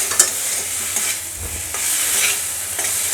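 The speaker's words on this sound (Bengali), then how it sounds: "মানকচুটাকেও ভালো করে কষিয়ে নেব" Boiled taro (mankochu) is sautéed with spices for a Bengali katla fish head curry, giving a close, steady sizzle with the soft scrape and stir of a spatula repeating throughout.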